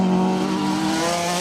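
Several rally cars race past on a Yorkshire special stage of the Trackrod Rally, their engines giving a loud, sustained, high revving drone with tonal harmonics close by.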